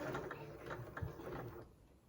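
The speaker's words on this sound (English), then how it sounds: "I can just smooth that fabric under and then carry on sewing" A sewing machine stitches box-pleated fabric for an advent calendar, giving a quiet, steady mechanical whirr with a faint clatter running all the way through.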